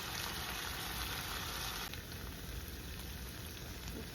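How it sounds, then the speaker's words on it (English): Chopped onions sautéing in a pan for a Mexican dish with red guajillo chile sauce, giving a steady, dense sizzle and crackle that drops slightly in level midway and then holds on, with no voices. "We're gonna let the onion saute a little bit"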